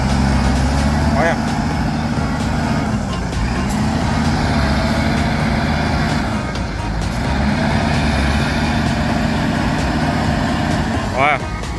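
A heavy truck engine runs steadily and loudly throughout, a low continuous rumble with a couple of brief high squeaks or beeps over it.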